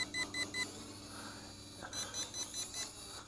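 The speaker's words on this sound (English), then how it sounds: "Notice our front lights are blinking and our controller's beeping." Eachine E511S folding GPS camera drone controller sounding its low-battery warning: rapid triplets of high, clear beeps, two bursts separated by a short pause, moderately loud over faint background hiss.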